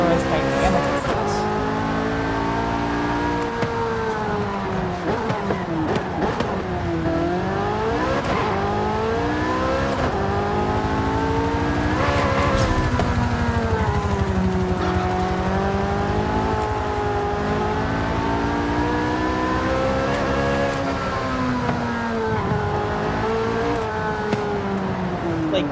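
A car in Forza Horizon drives a custom map, its engine droning continuously and pitching up and down through shifts and cornering, with occasional tire squeal, under steady talk.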